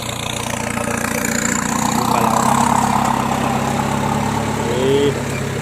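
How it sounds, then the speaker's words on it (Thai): A farm tractor's heavy diesel engine idles steadily nearby, a low rumbling drone that rises slightly in the middle. "เอารถไถลากกลับดีกว่า"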